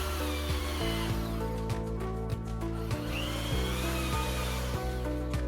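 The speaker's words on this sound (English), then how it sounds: "I first drilled small countersinks, just deep enough for the screw heads to clear the surface." A drill cuts small countersinks into workbench wood, giving a sustained whirring drone with repeated short pitch dips as the bit bites and eases off, steady and close with no voices.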